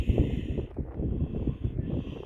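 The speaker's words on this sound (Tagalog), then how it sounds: "Malakas ang hangin dito." Strong wind gusts across an open vacant lot near a highway and a building, producing a steady low rumble and buffeting against the microphone, loud and close with no voices.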